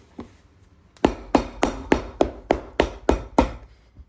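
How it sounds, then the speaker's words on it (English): Hammer blows setting a leather sole onto a pair of Tecovas boots with a guard over the leather: nine sharp, close knocks about a third of a second apart, after one lighter tap, with no talk. "And I can put downward pressure as I'm hammering, so that it just adds a lot more pressure and ensures a good bond."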